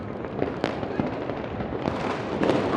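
New Year's Eve fireworks burst across Dhaka at a distance, with scattered sharp pops and cracks over a continuous rumble of far-off explosions.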